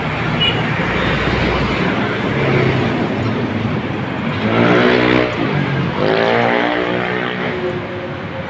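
A motorcycle rides along a road, its engine droning loud and close with wind rush, the pitch rising and falling through gear changes and passing traffic.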